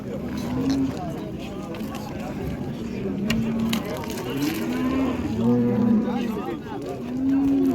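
Cattle at a busy livestock market, with repeated low moos rising over steady crowd chatter and people talking nearby throughout.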